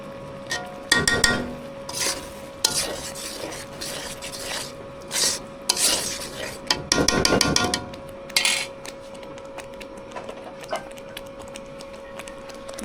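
Cooked dal with turmeric and salt is stirred and mashed in a pot in a village kitchen, making repeated scraping and knocking bursts, louder in the first half and sparser toward the end, over a steady background hum.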